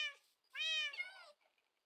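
A Siamese cat in the video game Minecraft gives two clear, close meows, the second longer and louder, then trails off into quiet.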